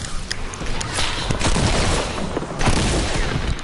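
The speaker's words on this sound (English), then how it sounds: "Pump shotgun." Pump shotgun fire in a video game, heard as a dense run of loud, sharp booming blasts that stack close together for several seconds, with faint talk mixed in.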